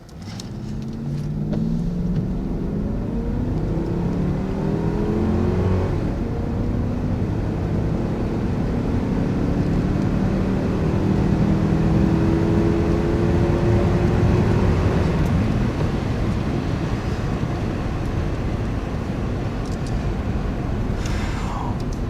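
A 2008 Jeep Grand Cherokee WK accelerates hard down a quarter-mile run on a closed course, its engine note rising steadily and loud and close for about twenty seconds, with no talking.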